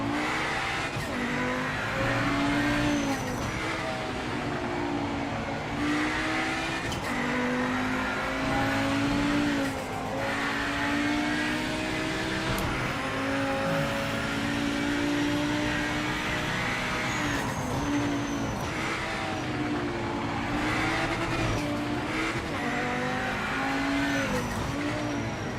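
A race car in the Project Motor Racing video game drives hard, its engine droning and revving continuously with gear shifts and tire squeal, loud and steady throughout with no talk over it.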